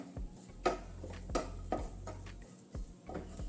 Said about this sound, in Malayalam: ഇനി നമുക്ക് കുറച്ച് തേങ്ങ വറുത്തെടുക്കാം